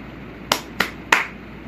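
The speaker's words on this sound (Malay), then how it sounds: "Kalau tepuk tangan, bunyinya kuat dan jelas." Three sharp hand claps in a body-percussion demonstration, crisp and fairly close, spaced unevenly about a third of a second apart with the last slightly loudest, and no voices over them.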